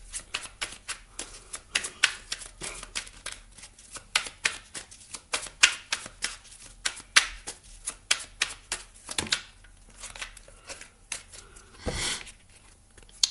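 Oracle cards shuffled by hand in a quiet room, a run of crisp, rapid riffling and flicking bursts that repeat steadily, ending in a louder final shuffle, with no talk.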